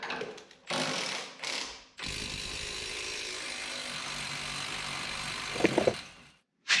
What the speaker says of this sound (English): first thing we got to do is get the bottom bolt out of the shock and disconnect our sway bar